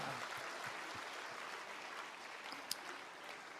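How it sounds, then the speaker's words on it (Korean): Audience applause in a grand ballroom at a prayer gathering, a faint, steady wash of many hands clapping at a distance, with one sharp tap near the end. "박수로 모시겠습니다"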